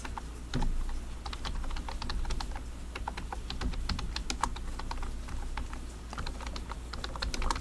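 Fingers type quickly on a computer keyboard during PowerPoint work, producing dense, irregular clicks and key taps close by, with some heavier keystrokes mixed in.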